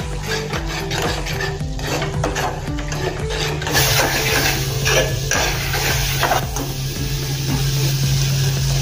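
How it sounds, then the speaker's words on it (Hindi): A spoon stirs spices round a hot pan, scraping steadily and continuously under a low sizzle as the masala cooks in oil, with no talk over it. "अभी चम्मच से ही हिलाएंगे और"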